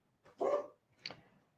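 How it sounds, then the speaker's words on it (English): A dog barks twice at someone arriving at the front door, two short, fairly loud indoor barks about half a second apart, with no talking. "Someone's coming to the door. There goes the dog."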